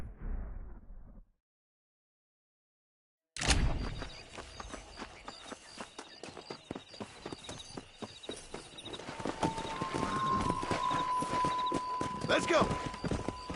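Horse hooves clip-clop at a gallop in the Red Dead Redemption video game, a steady close rhythm starting after a brief silence, with a voice calling out briefly over it and engine-like game sounds building later.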